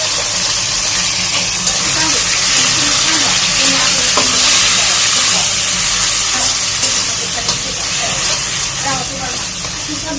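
Malabar spinach stir-frying in a pan with lightly browned fried onions, giving a steady loud sizzle and hiss with occasional stirring scrapes throughout, and a voice heard faintly now and then.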